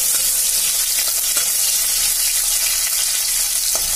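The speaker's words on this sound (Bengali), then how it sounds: "পেঁয়াজটাকে ভালো করে ভেজে নেব," Onion frying in oil with black cumin before eggplant goes in, a loud, steady, close hiss of sizzling with faint stirring clicks throughout and no speech.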